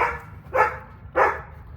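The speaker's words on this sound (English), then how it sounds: "no way he's barking, bro." Two short dog barks, about half a second apart, medium loud with a low background hum between them.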